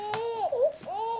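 A brief, wavering infant cry, a thin rising-and-falling wail lasting about a second, fairly quiet.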